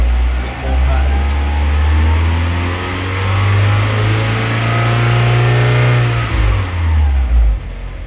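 A car engine revving up through rising RPM, loud and close, a sustained mid-pitched roar that climbs, holds, then eases back down near the end.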